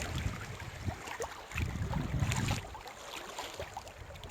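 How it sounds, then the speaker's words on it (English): A loaded canoe moves along the Current River on a windy day, with water sloshing and paddling splashes, a louder churning burst midway, and wind buffeting the microphone throughout. "Current River. Canoeing. Loaded canoe."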